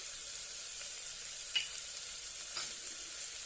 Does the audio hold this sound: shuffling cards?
no